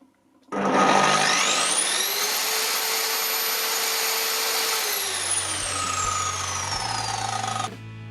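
A Parkside PHKS 1350 handheld circular saw starts abruptly and spins up to maximum speed, then runs with a loud, steady high whine. Near the end it winds down and cuts off sharply.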